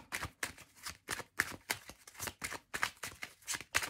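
Tarot cards being shuffled by hand, a quick run of soft, papery riffling bursts in a steady rhythm, close and fairly quiet with no talking.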